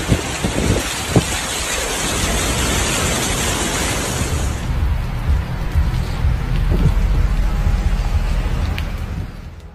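Heavy rain pours in a dense, continuous roar over rushing torrential floodwater in southern Africa, loud and steady throughout, with a few sharp splashes early on.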